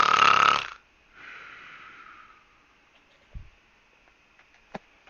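A person's voice imitates snoring at a tabletop Pathfinder role-playing session: one loud, rasping snort, then a softer drawn-out breathy rumble, followed by quiet scattered clicks and taps.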